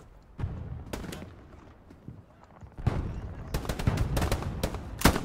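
Rifle shots from a Kar98 bolt-action in the World War II shooter Hell Let Loose ring out as several sharp, loud cracks spaced across the clip, with denser battle gunfire building toward the end.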